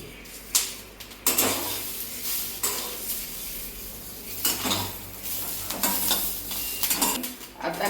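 Green chilies, garlic and cumin roasting in oil in a pan for a spicy paneer thecha, with a steady close sizzle broken by stirring scrapes and clinks of a utensil against the pan.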